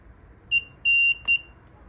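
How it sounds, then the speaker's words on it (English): A battery spot welder beeps before welding scooter battery cells: three high electronic tones, a short beep, a longer sustained one, then another short beep with a faint click, close and clear against quiet background. "So after it beeps, it blasts it with power."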